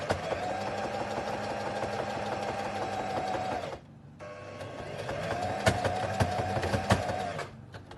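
A sewing machine stitches elastic onto a fabric face mask in two steady, humming bursts of rapid needle clatter separated by a brief pause, close up with no talk.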